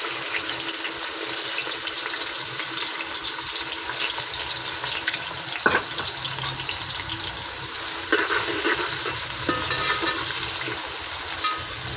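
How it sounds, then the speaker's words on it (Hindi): Chopped onions hit a pan with whole spices for chicken pulao and sizzle in hot oil, a steady hissing fry that carries on throughout, with a single clatter around the middle. "हमने अब प्याज डाल देंगे इसमें।"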